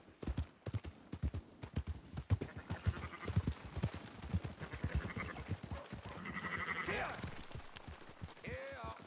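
Sheep in Red Dead Redemption 2 bleat in short bursts over rapid, steady hoof clip-clop from a horse, with someone talking at times through the herding scene.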